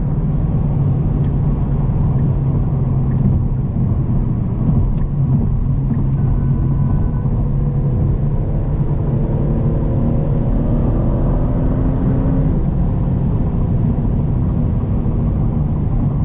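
A 2022 Genesis G70 V6 sports sedan's engine rumbles and builds steadily as it accelerates, heard from inside with a deep continuous drone and rising tone.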